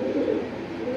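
Pigeons coo in a steady, low, continuous murmur, close and fairly loud with no pauses and no voices over it.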